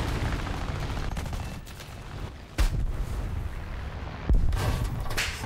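Booming explosions from a War Thunder tank battle, with two sharp heavy blasts standing out above a constant rumble of distant gunfire and battle noise.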